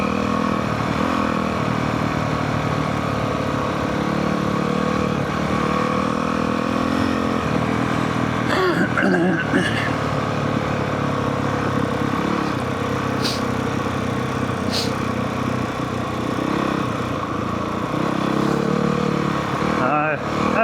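Dirt motorcycle engine running steadily while riding down a rutted trail in Farmington Canyon, a continuous close mid-pitched drone with small throttle changes and occasional knocks and rattles.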